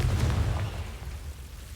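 A Confringo fire spell from Hogwarts Legacy goes off as a single deep, muffled blast that rumbles and slowly fades out.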